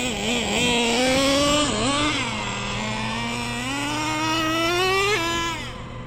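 A Traxxas Jato 3.3 nitro RC car engine idles and warms up close by, a loud high buzzing drone whose pitch wavers, dips and climbs before settling briefly near the end.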